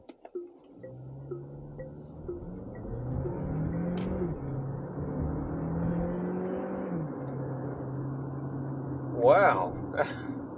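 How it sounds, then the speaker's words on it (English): Chery Tiggo 7 Pro SUV with a 1.6 litre turbo engine accelerating hard, a steady rising engine drone and road rumble building over several seconds, with a few brief clinks and a short spoken exclamation near the end. "So what about the acceleration from the Tiggo 7 Pro?"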